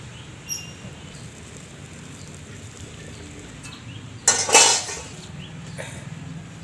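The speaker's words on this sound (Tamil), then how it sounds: "இப்போ இறக்கிடலாம் மீன் குழம்ப." A pot of village-style fish curry is lifted off a wood-fired home stove. A short, sharp metallic clatter and scrape sounds midway, over a low steady background rumble with no talking.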